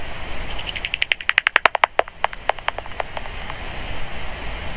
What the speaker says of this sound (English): You can hear them through this little device here. Will actually let you hear the bats as they go by.